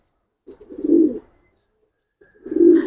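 Two low, soft pigeon coos close by at a pigeon farm, separated by a brief pause, with faint chirps above.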